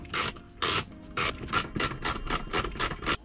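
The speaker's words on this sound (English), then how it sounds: "Next, we're going to remove the 2 bolts inside the center console." A ratchet wrench removes bolts inside the center console of a 4th-gen Toyota 4Runner, giving close, rapid rasping clicks in about ten short repeated bursts.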